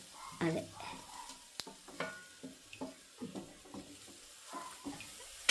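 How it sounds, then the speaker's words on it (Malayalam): Sesame seeds being stirred into grated coconut in a pan, soft intermittent scraping and light rustling strokes with a faint sizzle, fairly quiet and close, no clear talk. "എള്ളങ്ങോട്ട് ഇട്ട് ഇനി അങ്ങോട്ട് നന്നായിട്ട് ഇളക്കി പിടിപ്പിക്കുക"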